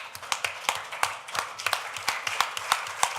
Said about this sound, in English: let's just stand up and give ourselves a round of applause